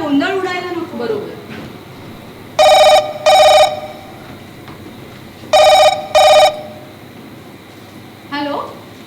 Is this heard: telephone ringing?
yes